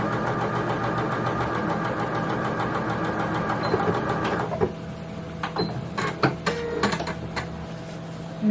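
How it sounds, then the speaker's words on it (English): A sewing machine winds a bobbin with a steady, close mechanical whir for several seconds, then stops into a series of sharp clicks and light knocks. "I'm going to do the bobbin now."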